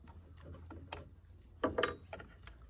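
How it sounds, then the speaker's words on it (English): A wrench loosens the blade bolt of a circular saw, turning it counterclockwise with a few close, quiet ratcheting clicks and metallic ticks, then a louder clatter of metal parts near the end. "Loosen your bolt."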